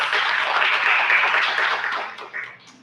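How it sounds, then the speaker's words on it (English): An audience at an academic lecture event claps together in a sustained round of applause, a dense, fairly loud patter that fades toward the end. "Let's give her a round of applause"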